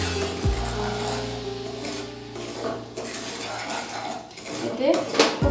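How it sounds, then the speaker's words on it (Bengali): Semolina being stirred and dry-roasted in a pan before ghee is added, for Bengali sujir halwa; steady scraping and clinking of a utensil against the pan, fairly close, with a low hum at the start. "সুজিটাকে হালকা সোনালি করে ভেজে নেব"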